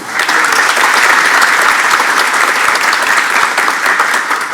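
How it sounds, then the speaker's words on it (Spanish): A large seminar audience in Paraguay, gathered on mass land titling, gives loud, dense, sustained applause that holds evenly throughout without a break. "a quien igualmente saludamos con este caluroso aplauso."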